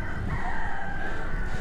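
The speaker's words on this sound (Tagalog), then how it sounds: "Ang mga manok ay tumitila-tilaok na." A rooster crows once in the distance, faint and drawn out over a low background rumble.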